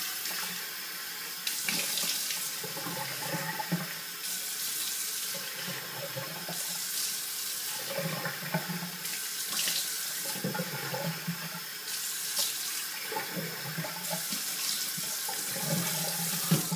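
Tap water runs steadily from a faucet into a sink while a razor is rinsed after a traditional wet shave with a Merkur 34HD, a continuous close splashing with slight surges and no talk.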